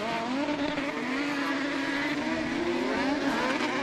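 Junior crosscar rally cars race on a RallyX circuit at Älvsbyn, engines straining at high revs in a continuous, rising and falling roar as they struggle for traction, with no talk heard.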